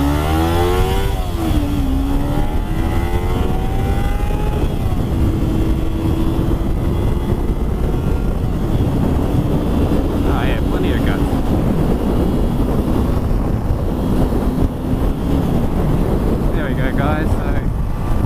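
Kawasaki Ninja 300 SE motorcycle cruising on a highway at about 100 km/h in top gear near 7,000 rpm, a steady engine drone buried under heavy wind rush, with a brief rise in pitch near the start.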